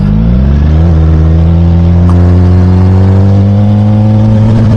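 Suzuki GSX-R 1000R sport motorcycle engine droning loud and close, its pitch stepping down as it shifts up into a higher gear, then holding a steady mid-range hum while cruising.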